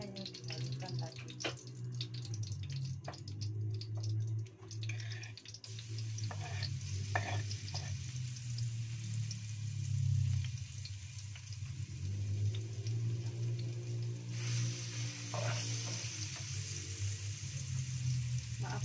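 Ground spice paste poured into hot oil in a pan while cooking snails, a loud continuous sizzle and crackle with stirring scrapes, strong and close over the full length, with faint background sounds.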